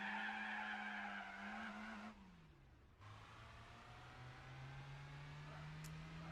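A car in Gran Turismo 4 skids under the handbrake, its engine note dropping as tires squeal in a steady smear, then the engine climbs again, loud and continuous.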